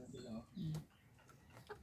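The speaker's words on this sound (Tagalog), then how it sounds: "fighting roosters" Fighting roosters on a family property give faint, scattered clucks, a few short low calls rising briefly over a quiet yard, with some soft background voices.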